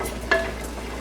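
Boiled vegetables dropped into a wok of egg fried rice, heard as a brief soft sizzle and stir with a single sharper clatter near the start.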